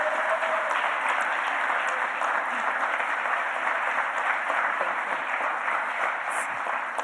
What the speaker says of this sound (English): A round of applause for it.